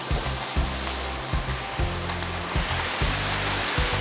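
A waterfall and the rushing stream below it on a rocky nature trail near New York City, a loud, steady broadband roar close by with intermittent low rumbling underneath.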